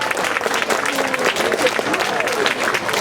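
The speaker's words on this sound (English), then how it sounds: "I would just like to give a House of Ukraine a round of applause for the Ukrainian Youth Dance Troupe." An audience applauds a Ukrainian youth dance troupe with steady, dense clapping from many hands, filling the hall at an even level throughout.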